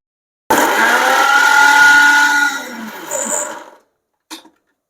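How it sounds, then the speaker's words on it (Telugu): Mixer grinder whirring as it grinds garam masala and spices into a fine paste, a loud close motor hum that runs for a few seconds and then stops, followed by a short clatter. "ఇప్పుడు మనము దీన్ని ఫైన్ పేస్ట్గా గ్రైండ్ చేసుకోవాలి"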